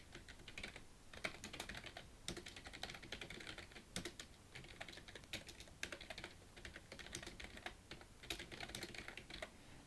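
Fast typing on a computer keyboard while filling in a PowerPoint exam exercise, a dense stream of close key clicks in bursts with brief pauses and no talk.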